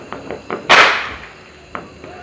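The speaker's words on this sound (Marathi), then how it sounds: "आता मित्रांनो आई फोडत आहे फटाके." A Diwali firecracker goes off close by at a home celebration, one sharp crackling burst set among a few light, faint pops and taps.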